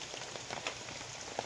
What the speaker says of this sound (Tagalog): Ganyan, lumalakas yung ulan.